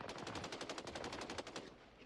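Rapid automatic gunfire in a Destiny Crucible multiplayer match, a steady stream of quick repeated shots that fades slightly near the end.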